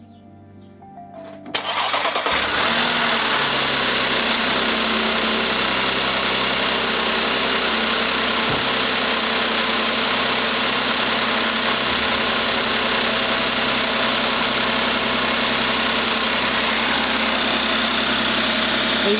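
An Audi A7 engine cranks briefly and catches after an oil change, then settles into a steady, loud idle that runs on without a break.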